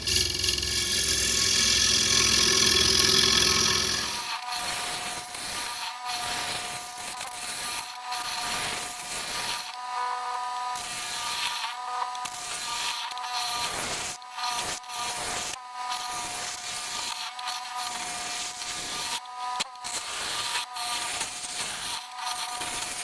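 A metal lathe spins at about 1300 rpm while carbide tooling cuts, giving a steady close whirring and rubbing drone with a louder broadband rush at the start, then a continuous grinding cut with faint ticking.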